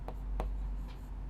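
A few quick strokes of writing on a board in a maths lesson, faint and close, with two or three short scratchy marks in about a second over quiet room tone.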